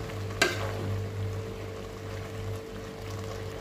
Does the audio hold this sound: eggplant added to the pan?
yes